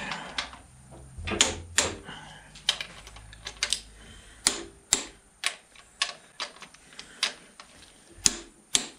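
A new torque wrench clicks sharply as it tightens crankshaft bolts on a 1955 Fordson Major tractor engine, a series of crisp, close metallic clicks spaced about half a second to a second apart amid faint workshop rustle.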